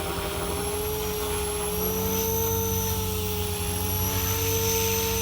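A Blade 500X RC helicopter motor hums steadily in flight with a high, sustained whine over a rough rotor drone, loud and unbroken throughout.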